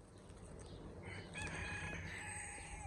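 A rooster crows on a small farm in the Algarve, Portugal, one drawn-out cock-a-doodle-doo at moderate distance over faint background noise, with other chickens clucking softly.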